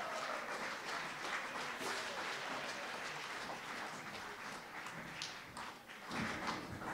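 A crowd at a grand opening event claps for the band, a dense, steady wash of applause that holds for the whole stretch, with a few voices faintly mixed in.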